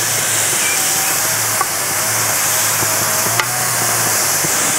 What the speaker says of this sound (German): Und jetzt können wir noch mal von der Marinade, einfach, dass es noch ein bisschen nachdampft,